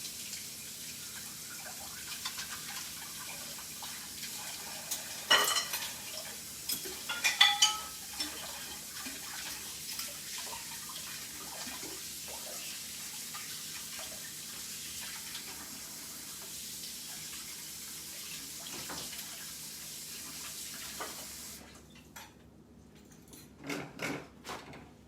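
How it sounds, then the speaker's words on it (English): A tap runs steadily and faintly in a kitchen while hands are washed clean of sticky gingerbread dough, with light splashes and a few clinks of dishes, then the flow stops near the end. "let me wash my hands because they're still a little sticky from"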